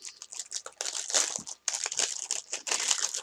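Crinkly plastic packaging being opened by hand, with continuous close rustling and crackling bursts and a brief pause midway, with no talking.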